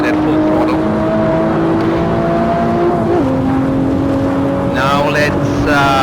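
A rear-wheel-drive car exits a drift at full throttle, its engine holding a loud, steady high drone with a brief pitch drop near the middle and a climb toward the end.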